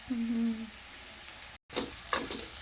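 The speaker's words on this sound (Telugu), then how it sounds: "అవి వేగుతూ ఉబ్బుతున్నట్టుంది" Bitter gourd sizzles and crackles steadily as it fries in hot oil nearby, with a short tone at the start and a brief cut midway.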